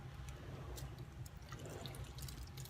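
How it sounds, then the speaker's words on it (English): Water pours steadily into a bowl holding onion and lemon, with a soft, continuous splashing and trickling, close by, no voices. "Now I am going to pour in some water."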